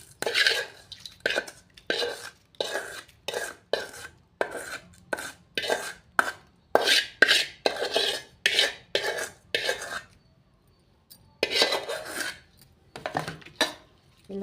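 A spoon stirs a sizzled tempering into curd chutney in a bowl, a long run of quick rhythmic clinks and scrapes with brief pauses, close and clear, no talking.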